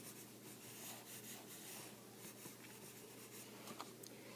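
A graphite pencil shades across paper with light pressure, making a faint, continuous scratchy rubbing of close strokes that sits quietly alone.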